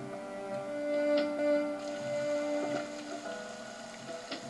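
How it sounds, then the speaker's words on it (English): Steady rain falls in the video game Ben Jordan VIII, a continuous patter with a few faint ticks, set against sustained tonal game music. No one speaks. "Oh, it's rainy and depressing."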